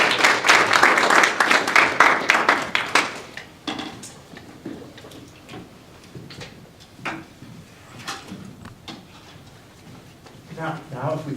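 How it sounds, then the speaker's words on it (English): A seminar audience applauds a speaker, with loud dense clapping for the first few seconds that then thins to scattered claps and a voice speaking, before a short burst of clapping returns at the end. "So we would like to applaud Mr. Srinivasan."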